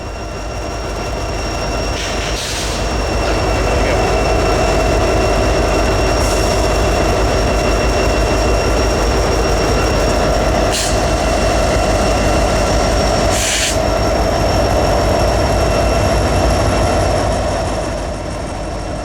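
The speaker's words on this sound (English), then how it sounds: "with an empty train, it just doesn't take a whole lot of effort from the locomotives to get it going" Diesel locomotives pulling an empty freight train away from a standstill in Oklahoma City, a steady low engine drone and rolling rumble with a few sharp clanks, moderately near and continuous without speech.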